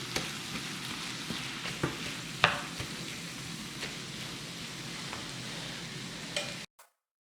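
Pastry filling sizzles and fries in a pan, a soft steady crackle with occasional clicks and stirring scrapes, ending abruptly.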